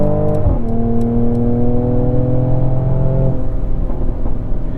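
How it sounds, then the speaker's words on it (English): A 2022 Mercedes-AMG GLE 53 engine drones loud and close, its note dropping with a sharp shift early on and again later, with a few crackling pops near the start. "you can hear it, you can have the pops and burbles without being too much of a felon"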